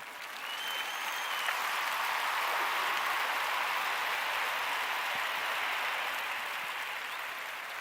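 A crowd claps continuously, a dense even patter that swells in over the first second, holds steady, then tapers slightly, with no talking over it.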